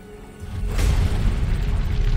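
A deep, rumbling boom of the planet Mercury exploding, a sound effect, swells up suddenly after a quiet moment and then holds as a heavy, roaring blast that doesn't fade.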